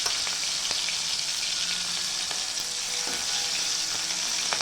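Green chillies fry in hot oil in a pan for a tempered rice dish, giving a steady, close crackling sizzle with occasional sharper pops and faint stirring scrapes, continuous and without voices.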